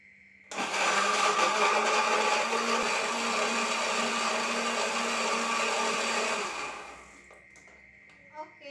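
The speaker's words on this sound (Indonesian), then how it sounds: "isi dengan sedikit air ya, supaya mudah saat di blender" A kitchen blender whirs steadily for about six seconds while blending spice ingredients with a little water, starting abruptly, holding a loud, even motor drone, then spinning down to quiet.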